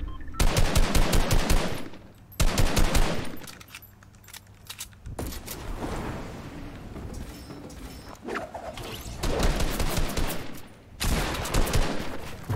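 In a video game, rapid bursts of automatic gunfire ring out loud and close, several long strings of rattling shots separated by brief lulls of quieter game noise.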